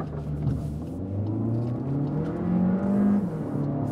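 Heard from inside the cabin, a Cupra Formentor plug-in hybrid accelerates hard, its synthetic engine sound rising steadily in pitch as the car picks up speed.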